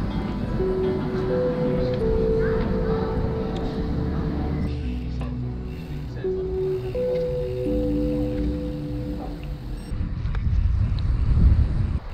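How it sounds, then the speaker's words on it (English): Strong wind buffets the microphone during a bikepacking ride on open roads, a constant loud roar with gusts that swell toward the end, and faint tonal hum running beneath the steady rush. "this wind has been very, very, very, very difficult"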